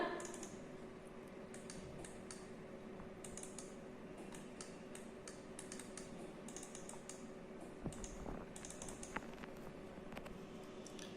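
Fingers type on a computer keyboard, a quiet steady patter of key clicks recorded close by.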